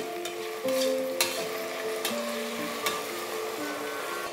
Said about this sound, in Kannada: ಟೊಮೊಟೊನ ಇದ್ರೊಳಗಡೆ ಹಾಕಿ ಒಂದ್ಸರಿ ಕ್ಲೀನಾಗಿ ಮಿಕ್ಸ್ ಮಾಡಿ